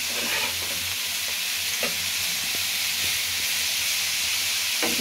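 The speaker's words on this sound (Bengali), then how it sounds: "এখন একটু এখানে ভাজা করে নিচ্ছে।" Vegetables such as carrot, papaya and beans for fried rice fry in a hot pan with a loud, steady sizzle and hiss, while a spatula scrapes and clinks against the metal now and then.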